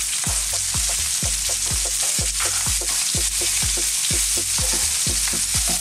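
Red chilli and sliced onions sizzle loudly with pork ribs in a hot pan, stirred over and over with a repeating scraping rhythm, and there is no talk.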